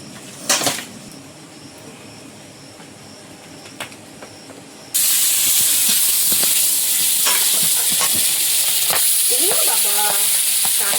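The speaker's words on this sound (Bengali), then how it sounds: "আজকেও এই যে কানমাগুরেও ছিটকায়, খুব সাবধানে ভাজতে হবে" Kan magur catfish frying in hot oil: a loud, steady sizzle and spatter kicks in partway through and continues to the end, after a quieter stretch with a few clatters and knocks.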